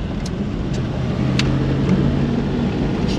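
Land Rover Series 2a engine droning steadily from inside the moving vehicle, a low, even hum with faint clicks and rattles over it, no voices.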